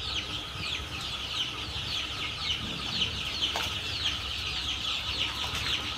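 A crowd of day-old guinea fowl chicks at a brooding farm in Barpeta, Assam, keeping up a continuous high chorus of overlapping peeps and chirps, close and steady with no talk.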